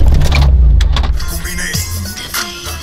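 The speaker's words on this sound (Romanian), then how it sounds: "stai așa că încerc să o pornesc acum cu tine să auzi." A car's engine cranks over and over without catching, the starter churning in a rough, low, continuous rumble with the clutch held down, close and fairly loud for nearly three seconds.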